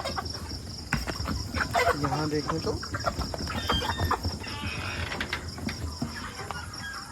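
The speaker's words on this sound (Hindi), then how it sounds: "10 मुर्गे हमने बचा के रखे हैं" Chickens, roosters and hens, cluck and call intermittently around a poultry farm while someone talks, with insects buzzing faintly in the background.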